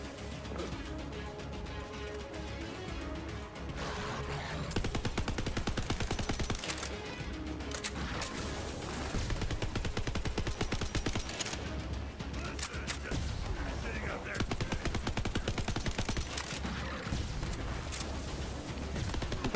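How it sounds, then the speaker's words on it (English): A security gun turret in Borderlands 3 fires continuous rapid automatic bursts, loud and steady throughout, over game music and scattered impacts. "Oh, that's a big security gun."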